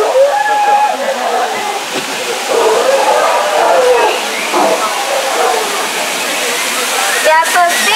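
Water pouring and splashing steadily at the elephant bathing pool in Disneyland, a loud continuous rushing wash with park crowd noise mixed in.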